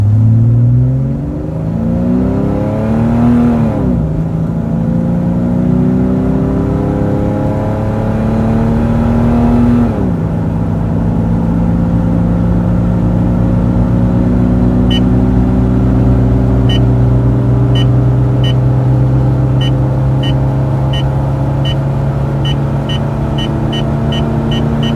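A Jeep WJ with a 4.0 engine pulls hard from a stop, the engine note climbing through gears with shifts around four and ten seconds, loud and close from inside the cabin.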